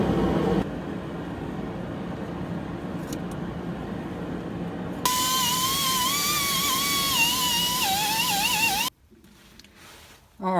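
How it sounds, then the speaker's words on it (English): A wire wheel spinning on an air-powered Dremel-style tool, cleaning a wheel-bearing mounting surface on a 2003 Ford Explorer: a steady close whir with a high rising-and-falling whine midway, then an abrupt cutoff. "I got a wire wheel on the air Dremel tool to polish this"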